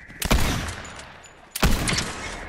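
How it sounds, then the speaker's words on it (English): Bursts of gunfire in a video game squad match: a loud volley near the start, a lull, then a second sharp burst, close and without talk. "Someone shooting at me."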